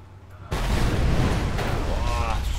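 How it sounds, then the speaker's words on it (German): Explosions in the video game Mad Max, a heavy boom that bursts in suddenly and rolls on as a loud sustained rumble with crackling debris. "alles am explodieren hier."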